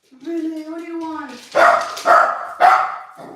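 An indoor dog gives a drawn-out whine, then three loud, close barks in quick succession.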